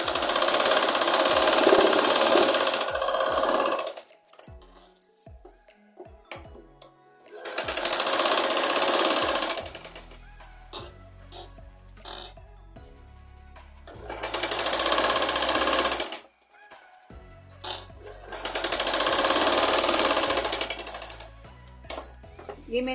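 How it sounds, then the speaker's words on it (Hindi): A sewing machine runs four times in loud, steady bursts of rapid whirring stitches along the edge of a child's umbrella frock fabric, separated by quiet handling clicks and shuffles. "अब हम इसके ऊपर दम्मी सिलाई लगाएंगे।"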